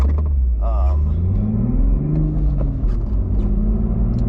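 Toyota Supra, special edition, engine running with a loud low rumble and rising rev sweeps, close and steady throughout with no voice over it.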